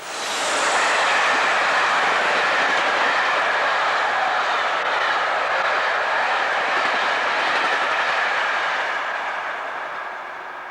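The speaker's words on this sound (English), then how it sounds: "45129 heads an unidentified northbound express through this now closed station" A British Rail Class 45 diesel locomotive hauls a northbound express through a closed station, a loud, steady roar of engine and rolling carriages sustained throughout, fading slightly at the end.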